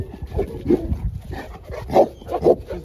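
A farm-type dog barks at a stud kennel, giving several short, rough woofs spaced about half a second apart, close and moderately loud.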